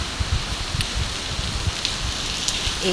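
Steady rain patters on outdoor surfaces near a senior citizen center lobby, a continuous soft hiss with scattered drips, no voices.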